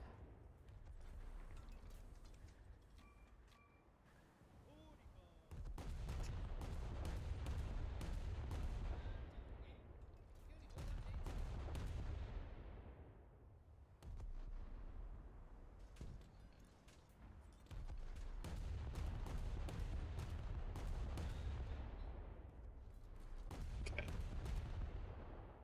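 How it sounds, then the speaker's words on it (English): Repeated bursts of heavy gunfire aimed at a battleship in a naval combat video game come in clustered volleys with short gaps between them, loud and booming, with no talking over them. "Let's see if my guns can do damage to a battleship."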